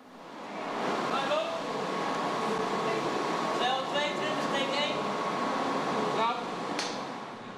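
A train arrives at a platform at Meppel station, a sustained rumble with intermittent metallic squeals and tones, steady and moderately loud, while people talk quietly underneath.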